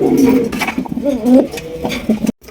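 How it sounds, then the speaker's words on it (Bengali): A pair of big blue bar exhibition pigeons coos in repeated low, throaty rolls, close and loud, with clattering and background voices mixed in. "চমৎকার এক জোড়া এক্সিবিশন কবুতর ব্লু বার এক্সিবিশন"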